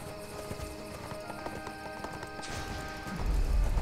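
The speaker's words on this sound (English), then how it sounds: "We have horses." Horse hooves clip-clop at a gallop in the video game Archeage, a steady near rhythm with game music and effects, growing louder and heavier toward the end.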